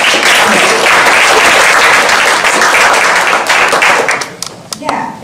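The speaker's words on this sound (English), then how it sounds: "Applause for all the librarians." Dense, loud applause from an audience at a poetry reading, celebrating librarians, sustained for several seconds before thinning into scattered claps and a few voices near the end.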